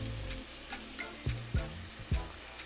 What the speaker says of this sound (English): We're gonna give this a nice stir.